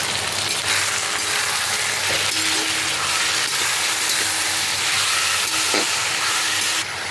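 Mutton with chopped tomatoes, ginger-garlic paste and spices fries in a pan, giving a steady, close, broadband sizzle with faint stirring scrapes throughout and no talking.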